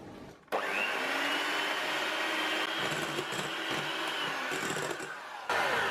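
An electric hand mixer beats strawberry cake batter with milk, switching on with a sudden steady whirring drone that holds for about five seconds and then cuts off. No one speaks.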